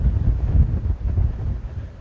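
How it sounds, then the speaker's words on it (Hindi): Strong storm winds during a gusty thunderstorm in Samba buffet the microphone, a loud continuous low rumble of wind noise that swells and eases throughout. "ये देखिए किस तरह से तेज़ हवाएं चल रही हैं"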